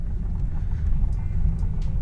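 A Honda Vezel hybrid rolls along at low speed, heard from inside as a steady low rumble of road and engine noise with faint ticks above, no talk.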